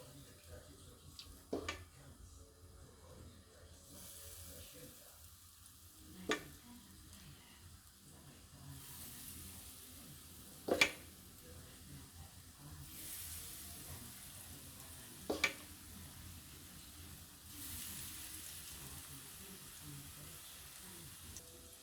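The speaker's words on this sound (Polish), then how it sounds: "Na rozgrzaną patelnię wykładamy małe placuszki." Soft sizzling of small pancake batter frying in hot olive oil, with a few sharp clinks of a utensil against the pan at intervals, fairly quiet and close.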